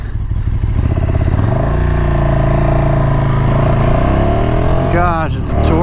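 A 2019 KTM 1290 Super Duke R engine drones loud and close throughout, its pitch climbing steadily as the bike pulls hard, then shifting near the end with rising revs.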